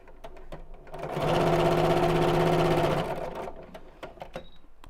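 A sewing machine stitches a bag with bamboo handles from the inside, running in one loud steady burst of about two seconds, with softer intermittent clicks and handling noises before and after.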